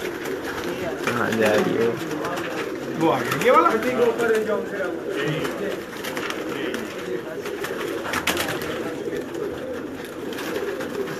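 Pigeons coo softly near at hand in a loft of racing birds, their low throaty calls running steadily under a voice speaking throughout.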